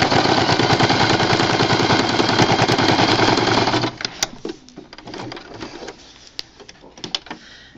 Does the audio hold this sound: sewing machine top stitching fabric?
yes